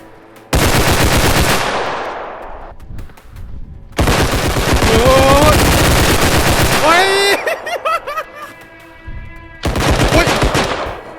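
Rapid automatic gunfire in the realistic shooter game Bodycam, loud bursts with brief gaps, under excited shouting players talking throughout.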